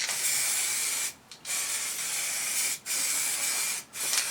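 An aerosol spray paint can hisses in steady close bursts while coating Triumph Scrambler heat shields in a garage, three short pauses breaking the spray, loud and alone.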